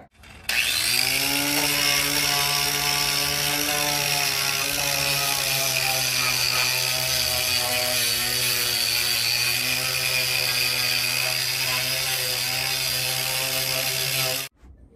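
A power sander works over a wooden picnic table outdoors, giving a loud, steady, high whirring drone that runs almost unbroken for about fourteen seconds, then cuts off abruptly.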